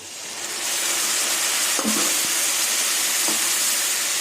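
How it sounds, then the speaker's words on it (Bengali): Boiled lentils go into a pan of half-fried onions, a steady hiss of frying with a soft splash and a couple of light knocks partway through. "দেখুন পেঁয়াজ হাফ ভাজা হয়ে গেছে এবার সেদ্ধ করা ডালটা দিয়ে দেবো"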